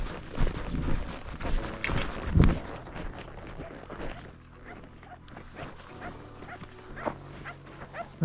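Several big dogs, not Kangals, barking on a hot trekking route in Patagonia, with a few loud nearby barks and whimpering yips over footsteps and outdoor noise, while people talk quietly.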